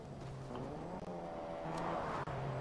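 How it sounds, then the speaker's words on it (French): A vehicle in Fortnite drives along with a steady low engine drone that rises slightly in pitch, heard up close with soft game ambience around it. "Je vais t'amener un véhicule tu vas rigoler."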